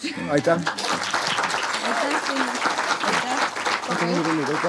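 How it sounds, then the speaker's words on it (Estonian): Audience applause after a talk on making a feature film, sustained clapping from a crowd while a voice speaks over it. "Aplaus."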